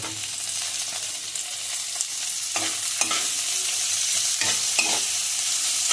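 Capsicum and tomato fry in a hot pan with a steady, loud sizzle, broken by several scraping stirs of a spatula, with no talking.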